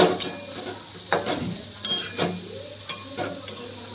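Bamboo shoots with turmeric being sautéed in a pan: a low frying hiss runs under repeated sharp scrapes and clinks of a utensil against the pan, about one every half second, close by and moderately loud.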